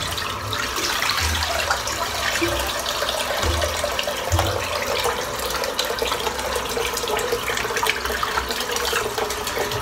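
Tap water running steadily into a sink while a lather-filled shaving brush is rinsed out, giving a constant close splashing gush with occasional low sloshing as the brush moves through the stream.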